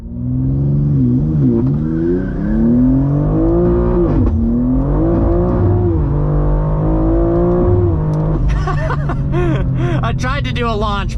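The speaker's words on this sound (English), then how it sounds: "I tried to do a launch, but it was not happy off the line there." A 2023 BMW M2 with an 8-speed automatic in Sport Plus mode, tuned to 720 wheel horsepower, revs hard during a launch attempt, its loud engine note rising and falling steadily for about eight seconds before shifting into rougher, noisier roar.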